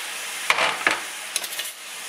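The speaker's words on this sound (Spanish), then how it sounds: "Y se revuelve aquí todo" Onion and paprika being stirred in a frying pan, with a few distinct scraping strokes of a spoon over a soft, steady sizzle, close by and with no talk.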